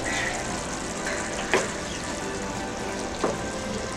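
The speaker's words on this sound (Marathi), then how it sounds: "आता आपल्याला मंद आचेवरती झाकण ठेवून हे मशरूम शिजवून घ्यायचे आहे।" Mushrooms for a mushroom egg masala cook in a pan, giving a steady close sizzle and bubbling hiss with a couple of faint clinks, alone without voices.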